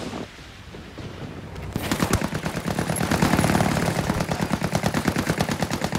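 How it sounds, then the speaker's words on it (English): Gunfire from a bugged weapon in the video game Ghost War that keeps shooting on its own: after a brief quiet lead-in, a loud, steady, rapid stream of automatic shots continues without a break. "My gun is bugged? It's continuously shooting?"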